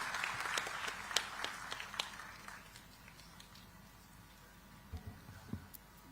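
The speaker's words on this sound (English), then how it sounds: "a thunderous round of applause" Audience at a digital technology summit applauding to welcome a speaker: a soft, distant patter of clapping with a few sharper claps, fading toward the end, with faint room noise and no clear talk.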